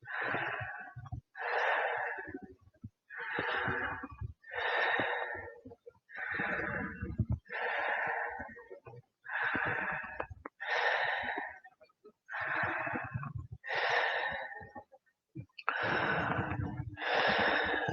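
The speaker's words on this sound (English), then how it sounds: "Let's go 10 more nice deep belly breaths." Deep belly breathing during a restorative yoga breathwork session: slow, loud, close inhales and exhales with a slightly wheezy, airy texture, repeating in a steady rhythm about a dozen times with brief pauses between breaths.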